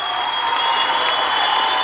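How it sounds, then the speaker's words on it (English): Live audience at an awards show for a podcast, clapping in a dense, steady wash of applause that stays even and fairly loud throughout, with no words spoken. "I love the applause."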